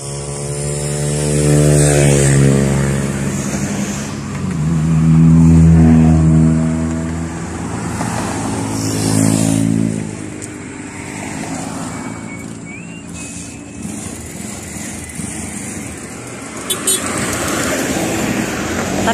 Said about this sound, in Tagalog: Tabing highway siya.